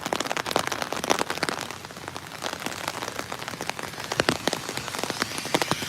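Steady rain patters and splashes on the ground during an outdoor Out of the Darkness walk through a residential neighborhood, with dense crackling drops and occasional louder nearby hits, no voices.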